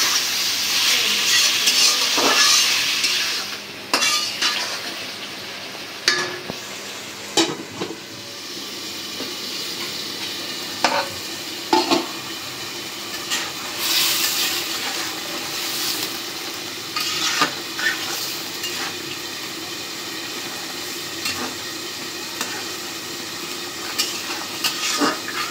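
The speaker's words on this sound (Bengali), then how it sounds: "এখন তরকারিটা আগে কষাই নিব ভালো করে" Pieces of gourd and potato stir-fry in a curry pan with a bright sizzle that fades after the first few seconds. Sharp utensil scrapes and knocks follow at irregular intervals over a softer ongoing fry.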